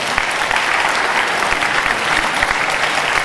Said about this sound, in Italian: Un applauso per Massimiliano Poggi.